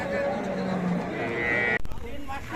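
A beef cow moos at a rural cattle market in Dinajpur, a long, loud, close low call with a falling tone, followed by a brief burst of clattering noise.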